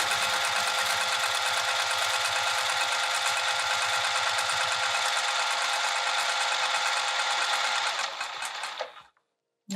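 A sewing machine runs a steady, continuous stitch up to a corner on a roll-up wrap, loud and close, then stops abruptly near the end before a brief restart.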